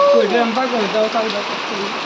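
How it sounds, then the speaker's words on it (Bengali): Rain falls steadily in a broad, even hiss while someone talks over it throughout. "আজকে বৃষ্টি নেমে গেল"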